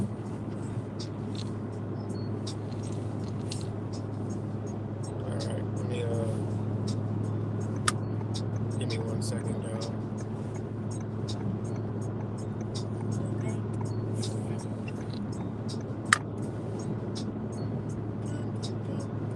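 A car drives along a road, a steady low hum of engine and tires from inside the cabin, with a voice talking over it and a couple of faint clicks.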